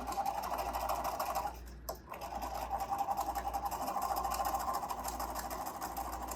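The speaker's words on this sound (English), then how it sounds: "Now I'm going to do a stitch across the bottom." A sewing machine runs a steady stitch across the bottom edge of a fabric face mask, about an eighth of an inch in, a fast even mechanical whir with a brief pause midway before it resumes, close and alone.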